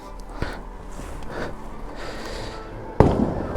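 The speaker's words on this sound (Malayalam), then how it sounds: "അവിടെ ഇവിടെ ഇട്ട് പടക്കം പൊട്ടിക്കേണ്ടി വരും" Firecrackers set off after Diwali along the Adukkam route toward Kodaikanal are heard from a moving vehicle. A faint distant pop comes first, then a single sharp, loud bang near the end over steady road noise.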